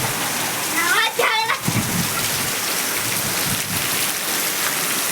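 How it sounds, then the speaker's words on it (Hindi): Heavy rain pours steadily onto surfaces in a village during a downpour, a dense continuous hiss throughout, with a brief voice near the start. "क्या ज़बरदस्त पानी वानी गिरा थे आज"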